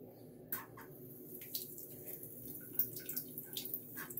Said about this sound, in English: So I'm rinsing it with the blade down like this so no water leaks back up into the pin.